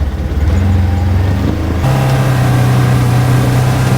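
A Polaris General UTV engine drives along a property trail at about 4,000 RPM, a loud steady drone heard from close by that shifts up in pitch partway through and then holds, with no talking.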